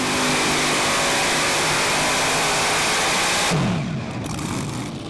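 A 2.5-ton class pulling tractor powered by three V8 engines roars at full, dense volume through a straight pull run at an outdoor tractor pulling contest, the wall of engine noise thinning slightly near the end as the machine bogs down.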